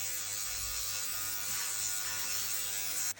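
Electric hair clippers buzz steadily and close while cutting a mohawk fade, a continuous bright whine holding level before cutting off abruptly at the end.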